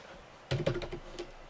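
Computer keyboard typing, a short burst of several quick clacking keystrokes close by, followed by one lighter tap in a quiet room.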